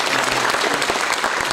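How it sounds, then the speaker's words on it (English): An audience at a freshers' welcome event at IIM Calcutta applauds, producing dense, steady clapping that fills the whole short stretch without pause, with a faint voice underneath. "big round of applause for"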